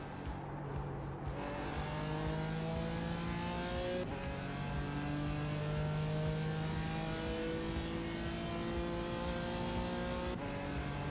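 A race car engine in a racing video game climbs repeatedly through the revs and shifts gears on a lap, loud and close, with no talking.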